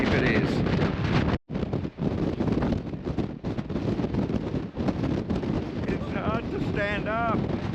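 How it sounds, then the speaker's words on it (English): Fierce gale buffeting a rocky, barren, cold Tasmanian landscape: a loud, constant roar of wind on the microphone, briefly cut off once, with a voice speaking over it near the end. "And that wind is fierce."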